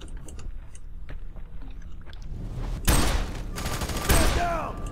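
Two loud, close gunshots ring out in the F.E.A.R. 3 shooter game, with quieter in-game rumble and clatter beforehand and a short ringing tail after each blast.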